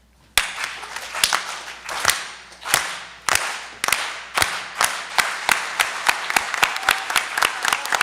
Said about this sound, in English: let's end with a big unity clap and a Si Se Puede.